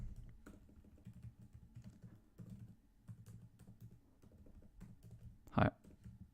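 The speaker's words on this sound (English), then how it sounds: "Typing when there are people watching, surprisingly, is not easy." Quiet, steady typing on a computer keyboard, soft keys tapped in irregular bursts close by, with one louder clack near the end.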